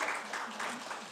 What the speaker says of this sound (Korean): 현장에서 박수 소리 많이 나왔습니다